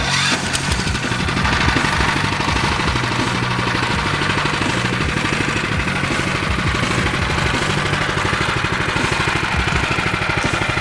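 A 7HP gasoline engine fitted to a Yamaha G22 golf cart runs steadily at close range, a loud continuous mechanical chug with no talking.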